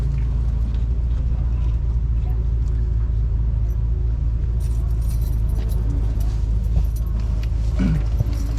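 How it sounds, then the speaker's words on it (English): Keys jangling inside a Bentley Flying Spur, a steady metallic rattle over the loud low rumble of the car's cabin, with faint voices in the background. "Look, I've got the key."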